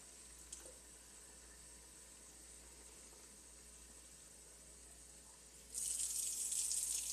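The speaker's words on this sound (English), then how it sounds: "Next thing we need to do is dilute it with water. Simple. Fill it to the top." Tap water runs steadily into a plastic shampoo bottle in a home kitchen, a constant hiss and trickle that grows suddenly louder and brighter near the end as the flow increases.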